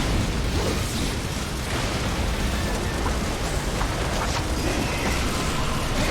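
A missile blast roars in Metal Gear Rising: Revengeance, a loud, sustained rumble of dense noise that churns on for several seconds without letting up.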